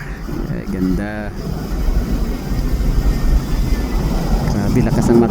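A loud, continuous airplane engine roar fills the clip at Francisco Bangoy International Airport, Davao City, steady and rumbling, with voices talking over it near the start.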